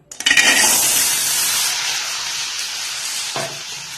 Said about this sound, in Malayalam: ഇപ്പൊ അതാ ചട്ടി നന്നായി ചൂടായി വന്നിട്ടുണ്ട് നമുക്കിതിലേക്ക് കൂർക്കിട്ട് കൊടുക്കാം